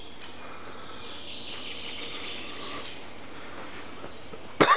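Faint, steady birdsong and chirping outdoors during a walk, a thin continuous chorus in the background, ending with a short louder rustle or knock.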